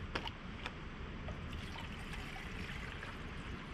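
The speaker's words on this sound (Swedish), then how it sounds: "Vatten till nudlarna." Water poured into a pot for noodles at an outdoor cooking spot, a steady trickling pour running the whole time beside a wash of broadband outdoor noise, with a few brief clinks near the start.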